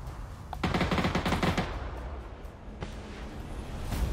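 Rapid bursts of automatic gunfire in the video game PUBG crackle in quick volleys, with a few scattered single shots after, moderately loud and without speech.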